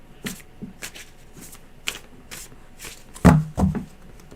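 Tarot cards are shuffled by hand in a series of quick riffling bursts, each a short papery flutter, ending with a louder pair of snaps and taps close to the mic.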